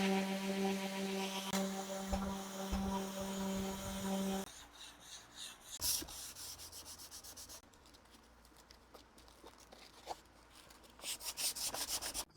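An old wood board is rubbed clean with painter's solvent, a scrubbing, rasping back-and-forth that starts under a steady tonal hum and continues alone in uneven strokes.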